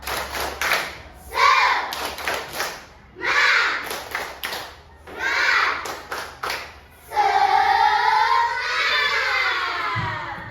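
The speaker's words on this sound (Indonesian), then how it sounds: "ayo buat semuanya tepuk semangat" A primary school class does a rhythmic spirit clap, loud close bursts of patterned clapping alternating with children chanting together, ending in a sustained group shout or sung phrase.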